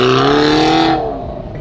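A damaged Mercedes-Benz C63 AMG engine revs loudly and close, a steady harmonic roar that holds then eases off and drops lower after about a second.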